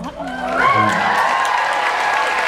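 Fan Expo 2014 convention audience clapping, a broad wash of applause from a crowd that swells in and holds steady, with a voice speaking over it at the start.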